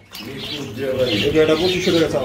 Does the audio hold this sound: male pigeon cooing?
yes